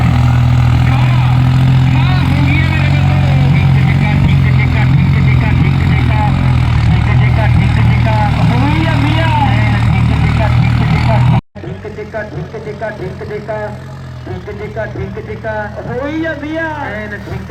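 A loud, steady New Holland tractor engine roars and revs, with a sudden cut around the middle followed by a quieter engine drone and voices talking over it.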